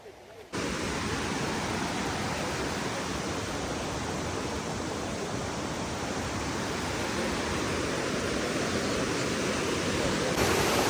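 A waterfall on a trail in Wayanad roars steadily and loudly close by, a dense unbroken rush of water filling the whole stretch after a brief quieter start.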